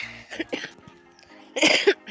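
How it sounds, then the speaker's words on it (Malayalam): A few short, harsh coughs from one person close by, a couple early on and a louder burst near the end. "എനിക്ക് ചുമ ഇപ്പോൾ ഇടയ്ക്കായിട്ട് വന്നിട്ടുണ്ട്"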